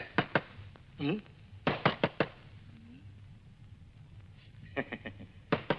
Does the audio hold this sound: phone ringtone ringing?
no